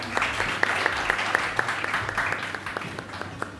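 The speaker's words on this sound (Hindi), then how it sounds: "बहुत सारी तालियां उज़ैर सानी के लिए।" A studio audience at a Ramadan iftar television show applauds a guest, with rhythmic individual claps standing out sharply over a continuous crowd patter of moderate loudness.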